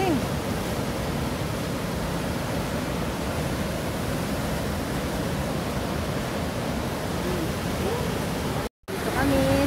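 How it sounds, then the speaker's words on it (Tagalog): The Lower Falls in Johnston Canyon roar as a dense, steady rush of falling water, loud and close, with voices faintly audible beneath it. "Ito na, Lower Falls."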